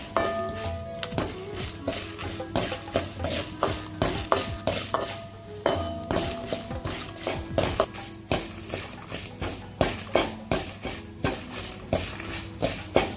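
Radish and chillies fry over low heat in a pan for a radish chutney, with steady sizzling and repeated scraping stir strokes throughout, close up, over soft background music.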